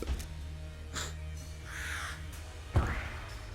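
Gatling Gull, a bird boss in Enter the Gungeon, letting out a few raspy crow-like caws spaced across a few seconds over quiet game background sounds.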